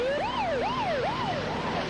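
A volunteer rescue squad ambulance siren wails in a fast, repeating rising-and-falling yelp, loud and fairly close, with steady road noise underneath and no voices.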